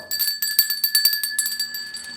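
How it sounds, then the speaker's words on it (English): A small bell sound effect rings in a quick, rapid series of bright metallic dings, close and clear, fading slightly toward the end. "ring the bell."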